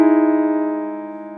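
A sustained keyboard chord voiced with the third in the bass and a major seventh on top, struck once and left ringing alone, fading slowly with a gentle wavering shimmer, steady and fairly loud.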